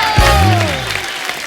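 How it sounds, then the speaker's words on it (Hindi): A studio audience on an Indian comedy show breaks into loud clapping with cheers, close and full, fading slightly toward the end; no talk over it. "और ठोको ताली ठोको"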